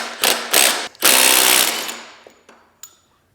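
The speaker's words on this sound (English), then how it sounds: "Actually, I'm gonna take the sprocket nut" A power tool hammers loudly in two short bursts and then one longer burst as it removes the sprocket nut on a 2024 BMW S 1000 RR motorcycle, followed by a fading whir and a couple of light clicks.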